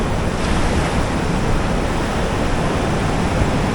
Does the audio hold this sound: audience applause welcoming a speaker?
no